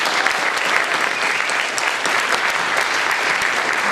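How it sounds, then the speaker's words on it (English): Loud, dense applause from an audience at a jazz camp, sustained evenly throughout with a few faint voices in the crowd. "One more round of applause for those guys, man."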